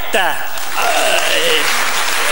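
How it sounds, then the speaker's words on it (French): Applause rises from a comedy show audience as a performer is welcomed onstage. Briefly a voice speaks over it, and then the clapping continues under a background tone. "Mesdames et messieurs, une bonne main d'applaudissements pour Monsieur Dave Whippet."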